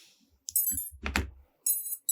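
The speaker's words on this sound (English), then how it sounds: "Now let's see if we get the full beeps." A series of short, high electronic beeping tones from an FPV freestyle drone motor startup, in bursts with a brief low thump between them, close and clear.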